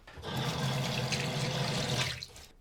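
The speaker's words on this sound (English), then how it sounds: "So I like to just go wash my hands off and then I come back and I glue it down." Tap water runs steadily into a sink as hands are washed clean of glue while transferring a linocut design, a broad continuous splashing hiss that swells in and trails off after a couple of seconds.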